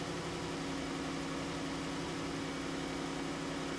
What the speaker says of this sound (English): This Ford E450 would not shut off,